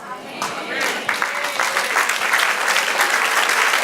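Applause from a church congregation during a Spanish-language sermon, a broad steady wash of clapping that builds slightly, with voices mixed in beneath it.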